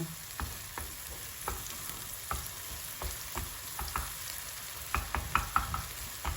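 Egg with cheese fries in a pan, producing a soft, steady sizzle broken by sharp clicks and taps of a utensil scraping and stirring close by, with the taps coming more thickly toward the end.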